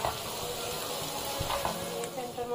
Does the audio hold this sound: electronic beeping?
no